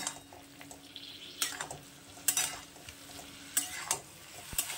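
Cauliflower stems cooking in a pan with mustard paste while the water dries off, giving soft sizzling with intermittent scraping stirs and clinks, close and fairly quiet.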